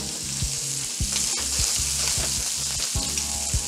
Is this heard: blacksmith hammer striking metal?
no